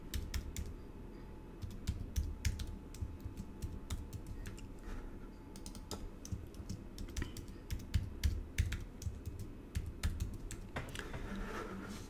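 Rapid, uneven clicking of keys as a password is typed on a computer keyboard, close and fairly quiet, with no talking.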